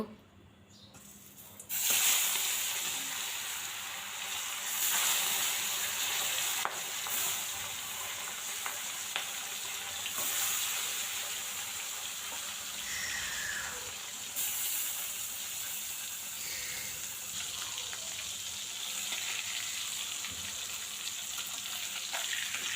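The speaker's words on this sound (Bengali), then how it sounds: "এই যে মাছ ভাজা হয়ে গেছে" Bata fish fries in hot oil, a continuous close, bright sizzle that starts abruptly and crackles steadily throughout, with no talking.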